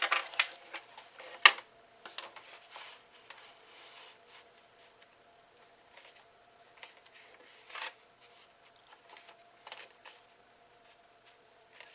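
A 12 by 12 sheet of paper being cut, with faint, irregular snips and crisp paper rustles close by in a quiet room.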